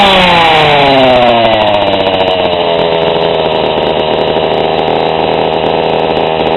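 A small two-stroke engine, carburetor freshly tuned with both high and low mixture screws about 1 1/4 turns out, runs steadily and loud at close range, its pitch settling slightly after the first second and holding a smooth, even drone without talk.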